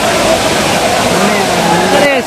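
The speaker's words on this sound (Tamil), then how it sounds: "பாருங்க, தண்ணி வரத்து பயங்கரமாக இருக்குது." Heavy torrent of water pouring down the Courtallam waterfall, a loud, steady roar filling the whole clip close by, with faint crowd voices beneath it.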